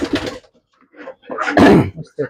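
Young homing pigeons coo in short, throaty, rolling bursts close by, with brief pauses between calls and a person talking in between.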